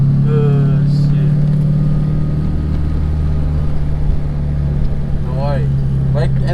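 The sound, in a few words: Honda Integra Type R K20 engine revving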